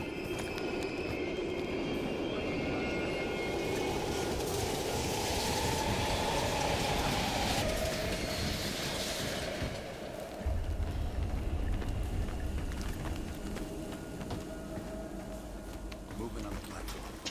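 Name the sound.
train passing in video game Call of Duty Black Ops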